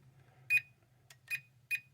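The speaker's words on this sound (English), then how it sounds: "press this button and you'll start to hear it beeping." Three short electronic beeps from a Volantex BF109 V2 radio-controlled warbird plane's auto-takeoff mode, a brief pause between each, over a low steady motor hum.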